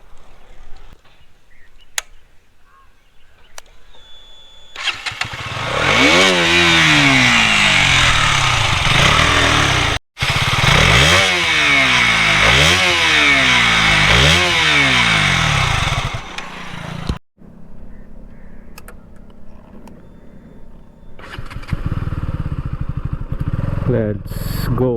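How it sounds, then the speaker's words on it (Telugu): A KTM Duke 200 BS6 motorcycle is started and its exhaust revved: the engine catches, then climbs and falls in several loud, close revs. It cuts out and goes quiet briefly, then picks up again as a lower, steady running sound. "ఒకసారి ఎగ్జాస్ట్ సౌండ్ అయితే వినండి"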